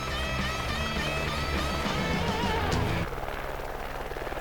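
A helicopter ferrying families and gear near Chisasibi airport flies with a loud, continuous rotor and turbine roar that eases slightly near the end, with no talking.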